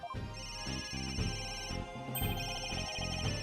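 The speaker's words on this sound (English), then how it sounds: "Where's that ringing coming from?" A cell phone rings in the video game Ace Attorney: Dual Destinies, a repeating electronic ringtone that rises and falls steadily over a backing of game music, loud and close, with no voices.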